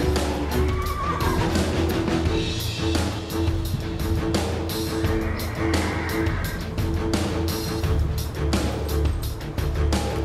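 A horse entered in a race whinnies amid a dense, steady wash of background noise, its neigh surfacing briefly near the start rather than standing clearly alone.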